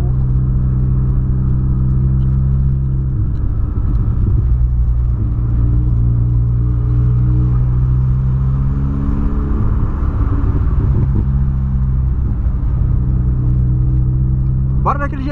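A 2022 Volkswagen Polo Sedan engine idles with a steady, loud, low rumble heard from close by, holding level throughout with only slight variation in tone.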